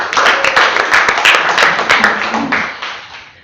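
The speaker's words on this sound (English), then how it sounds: "can we have a round of applause for her speech today?" A small Toastmasters club audience gives a close, lively round of applause for a member's speech, clapping briskly before it tapers off, with a few voices mixed in.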